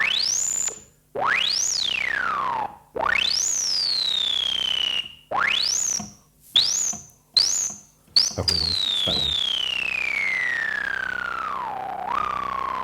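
A bright Behringer Odyssey analog synthesizer tone repeatedly sweeps up sharply then glides down, each note shaped by a decaying envelope, ending in a long falling tone; a brief voice speaks.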